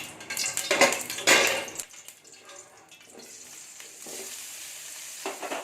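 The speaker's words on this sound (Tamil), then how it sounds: "இப்போ வந்து கடாயில் ஆயில் கொஞ்சம் விட்டு பன்னீர் எல்லாம் கட் பண்ண பன்னீர் எல்லாம் இதில் போட்டுங்க." Cut paneer pieces hit hot oil in a kadai, bursting into loud sizzling with stirring and clinking, then settling into a quieter steady fry.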